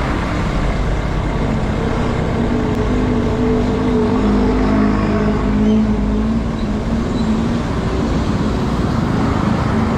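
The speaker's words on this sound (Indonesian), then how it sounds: "Nah ini sebelah kanan truk-truknya udah banyak, sekitar jam setengah 9-an malam." Trucks and other traffic on a road at Parung Panjang at night, a steady loud rumble of engines and tyres that continues throughout with no breaks.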